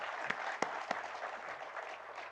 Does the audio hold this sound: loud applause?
yes